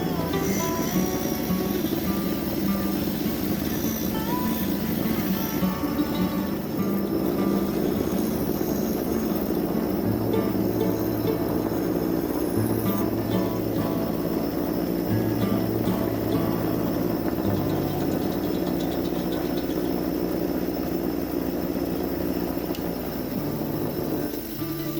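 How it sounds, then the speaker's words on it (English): A forged steel striker is cleaned up on a wire wheel and a bench grinder. A loud, continuous whirring drone holds steady for the whole stretch, with small changes in tone and no voices. "now all that's left is we'll clean it up on the wire wheel and on the grinder"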